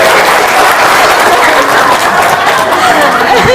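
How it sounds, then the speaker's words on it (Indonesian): A crowd applauds loudly and continuously, dense clapping filling the whole stretch with a faint murmur of chatter beneath it. "Tepuk tangan dong!"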